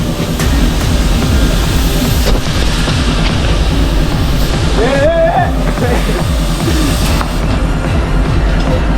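A local train at Kasara station passes close and loud, with rhythmic clickety-clack of wheels over rail joints, a steady rumble, and a brief squeal; voices of a crowd mix in.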